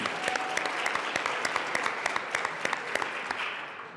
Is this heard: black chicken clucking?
no